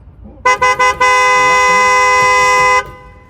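A car horn honks three short times, then blares in one long sustained blast, loud and close.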